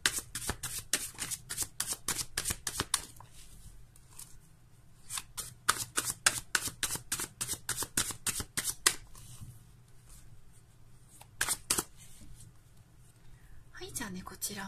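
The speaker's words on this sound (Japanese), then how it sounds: "こちらのカードもシャッフルしていくので少しお待ちください。" Fortune-telling cards shuffled by hand in a rapid run of crisp riffling flicks and slaps, pausing briefly and resuming in bursts, with a soft voice talking at times between them.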